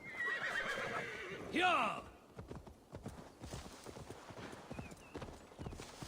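Horse in the Assassin's Creed Valhalla video game giving a loud whinny, then steady clip-clopping hooves trotting nearby, while someone briefly speaks.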